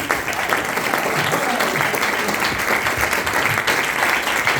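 A church congregation claps together during an evangelical sermon, a dense, sustained roar of applause that holds steady and loud throughout, with voices faintly mixed in.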